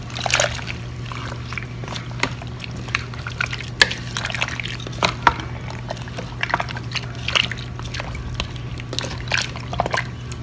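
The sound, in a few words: stirring beef stew in a pot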